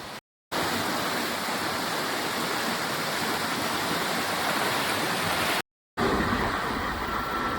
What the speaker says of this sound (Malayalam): ഈ വെള്ളം കണ്ടോ നല്ലോണം കലങ്ങി അടിച്ചാൽ വരുന്നുണ്ടോ ഒരു നല്ല സ്പീഡും ഉണ്ട് വെള്ളത്തിന്